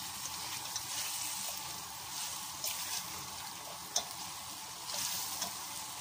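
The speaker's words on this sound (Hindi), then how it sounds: "इसको अच्छी तरह भूनूंगी, इसे अच्छी से मिक्स करके साथ साथ भूनती जाऊंगी" Chicken chana frying and being stirred in a pan, giving a steady soft sizzle with occasional scraping clinks of the spoon, close but fairly quiet, no talking over it.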